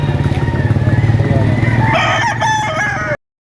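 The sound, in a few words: roosters crowing at chicken market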